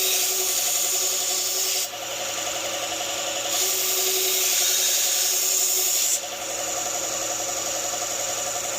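Steel knife blade being sharpened on a powered grinding or honing wheel, a continuous close abrasive hiss and whir with brief dips where the blade lifts off.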